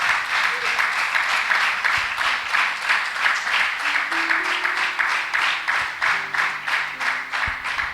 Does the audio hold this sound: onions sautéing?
no